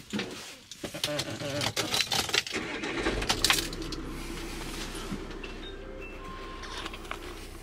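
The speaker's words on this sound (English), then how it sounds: "But when I start the vehicle," A vehicle engine starts and settles into a low, steady idle after some clattering handling noises, with a person talking nearby.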